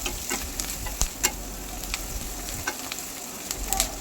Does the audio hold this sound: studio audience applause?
no